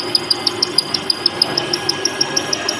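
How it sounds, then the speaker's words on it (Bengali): A modern machine cuts a V shape, giving a close, even mechanical hum with quick, regular ticks, several each second, for the whole stretch. There is no talk. "এটা আমাদের এখন ভি শেপে কাটিং হইতেছে।"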